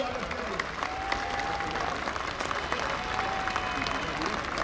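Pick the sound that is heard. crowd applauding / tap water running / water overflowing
crowd applauding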